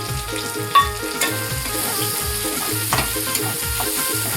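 Onion, tomato and spice masala fries in oil for a prawn and potato bhaji, a close continuous sizzle broken by repeated rhythmic stirring scrapes and a few sharper clinks against the pan, with no talking.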